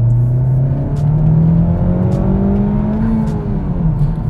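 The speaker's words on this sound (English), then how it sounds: "that whoosh sound from the turbo that you're hearing is not a blow-off valve. That is actually the intake that I have on the car right now" Honda Civic Type R turbo with an AFE Takeda cold air intake, the engine pulling hard through a canyon road with a steady loud drone and airy intake whoosh rising and easing, no voices.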